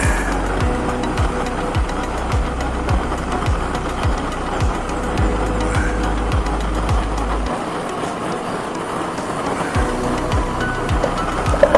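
A homemade burner fed with used oil roars steadily and loudly on a stove, a continuous broadband rush with a low rumbling pulse that drops off partway through, no speech.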